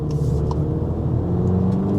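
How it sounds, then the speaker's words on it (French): A Volkswagen Polo GTI engine in sport mode hums in a steady, low, continuous rumble from inside the car, with no talk over it. "en activant le mode sport, déjà au premier abord, on sent une réactivité moteur un peu plus prononcée, une sonorité beaucoup plus plaisante"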